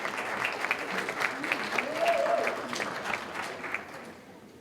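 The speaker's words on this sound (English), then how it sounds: "Let's give all those groups a round of applause." An audience at a community meeting breaks into applause. The clapping is moderately loud and sustained, and a voice carries faintly through it.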